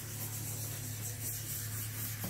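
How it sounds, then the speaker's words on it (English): Sandpaper rubbed by hand in light circles over a painted insert, a steady soft continuous scratching hiss, close and even throughout. "Then get your sandpaper and kind of do a very light circle"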